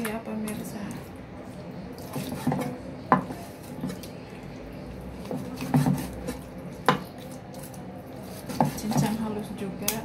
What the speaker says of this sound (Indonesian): Cincang juga halus seperti itu ya pemirsa